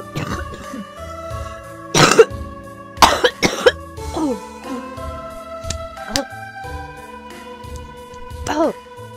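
A video game character coughs in several harsh bursts, a cluster of two or three near the middle and one more near the end, over steady background game music with some speech.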